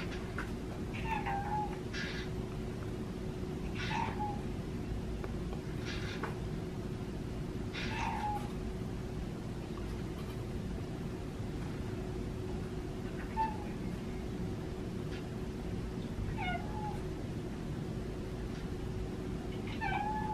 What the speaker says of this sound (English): I still hear him meowing from the other side of the house.